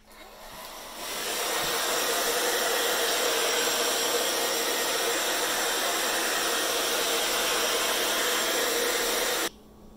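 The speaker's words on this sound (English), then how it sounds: "I'll probably get out my hair dryer and dry them even more" A hair dryer blows on wet mechanical keyboard keycaps, a steady loud whooshing roar that ramps up in the first second, runs evenly for about eight seconds and then cuts off abruptly.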